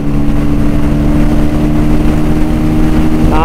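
Bajaj Pulsar 125 motorcycle riding in fourth gear, a loud steady engine drone with constant wind rush, close and unbroken, rising slightly near the end.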